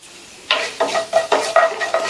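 Cumin and fennel seeds fry in two tablespoons of hot oil in a pan while being stirred. Sizzling bursts and scraping strokes come at an irregular rhythm, close and fairly loud, with no talking.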